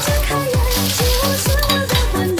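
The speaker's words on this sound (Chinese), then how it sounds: "今晚准备做个爆炒酸辣豆芽" Sour and spicy bean sprouts are stir-fried hard in a wok in a home kitchen in Chongqing: loud oily sizzling with a quick, regular rhythm of tossing and scraping strokes throughout.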